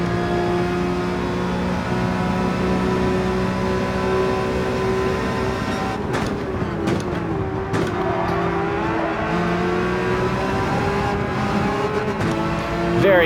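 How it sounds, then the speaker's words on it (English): Porsche 911 race car in the Gran Turismo 7 video game at Monza, engine held at a loud sustained drone on the straights with pitch shifts and light tyre noise, steady and continuous throughout. "Very versatile, the Porsche 911"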